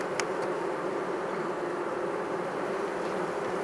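Honey bees hum steadily and continuously across a foundationless frame of capped honey pulled from a poly hive, a dense, even buzz of many calm insects close by with no voices.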